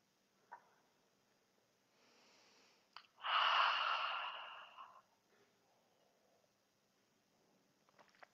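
A group breathes together in unison during a yoga flow at an outdoor festival, with one long, loud shared exhale standing out amid quieter breaths and soft movement.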